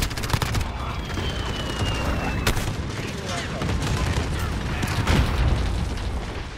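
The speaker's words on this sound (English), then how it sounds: "Allied cluster strike." Cluster strike explosions in the video game Call of Duty: Modern Warfare, a dense, continuous barrage of rumbling booms and crackling bursts at steady high loudness, with a few sharper impacts standing out.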